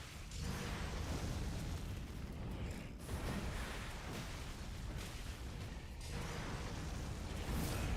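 A huge explosion attack from the boss Mohg in Elden Ring, a loud, sustained roaring blast that rumbles on for seconds, surging and briefly dipping before swelling again.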